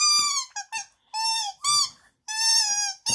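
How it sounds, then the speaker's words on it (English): A squeaky apple-shaped dog toy squeaks repeatedly as a dog plays with it: short and longer bright, pitched squeals in irregular bursts, close and clear with silent gaps between them. "I think the squeaky apple is a real hit"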